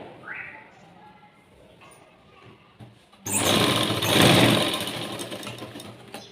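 A sewing machine stitches dots on a blouse, first as a quiet intermittent whir under soft background sound, then starting up loud and running steadily in a close, continuous buzz for the last few seconds.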